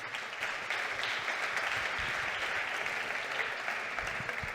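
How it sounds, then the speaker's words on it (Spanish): An audience at a conference on combustion and decarbonization applauds to welcome a speaker, a dense, steady clapping that holds at an even level throughout the few seconds, with no voices over it. "Recibámoslo, por favor, con un fuerte aplauso."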